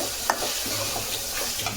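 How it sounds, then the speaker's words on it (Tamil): Tomatoes, mint and coriander sauté in a hot pan for rajma gravy, giving a close sizzle with scraping stir strokes and a sharp clatter near the start. "இதில் 2 தக்காளி, கொஞ்சம் புதினா, கொஞ்சம் கொத்தமல்லி இது போட்டுக்கலாம். நல்லா வதங்கட்டும்."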